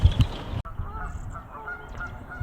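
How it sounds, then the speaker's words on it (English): Geese on a golf course at Dainton Park honking loudly and close by, a sharp burst followed by a scattered run of fainter calls. "now the geese seem to be having some sort of fit."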